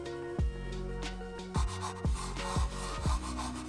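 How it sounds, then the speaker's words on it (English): The customizable shell of a Marvo Fit Pro gaming mouse scraping against a mousepad, several short rasping strokes each starting with a thud, close and distinct over a faint background hum. "the customizable shell ends up scraping against the pad because of the way it attaches to the base"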